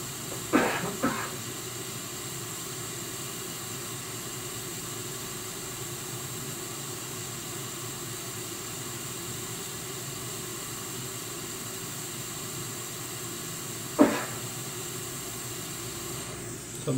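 A hot air rework station blows steadily onto an iPad Pro 9.7-inch (2016) logic board, a constant close airy hiss running throughout with a few brief clicks near the start and around the fourteen-second mark.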